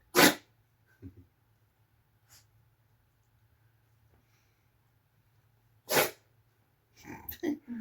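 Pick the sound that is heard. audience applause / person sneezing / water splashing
person sneezing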